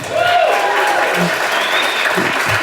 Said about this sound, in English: like 3 tables clapped